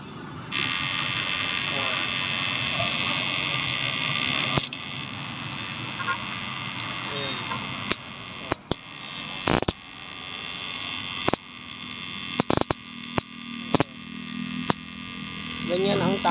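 A homemade electric shock apparatus runs with a loud, steady electrical hum, broken from midway by a series of sharp clicks and brief crackling bursts.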